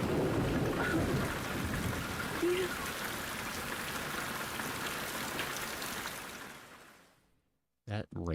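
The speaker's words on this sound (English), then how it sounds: "That rain sound effect was kind of loud." Heavy rain pours in the horror video game Fatal Frame 3, a loud, dense, steady hiss that fades out near the end before a brief voice is heard.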